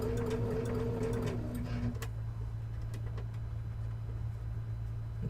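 A sewing machine stitches a small rope bowl with a steady faint mechanical whir for about two seconds, then stops, leaving quiet room noise.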